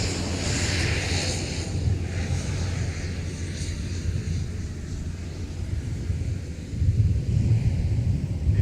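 An Endeavor airliner takes off from runway 30 right at Minneapolis–St. Paul airport, a sustained distant jet engine roar mixed with wind buffeting the microphone, swelling slightly toward the end, with no talk.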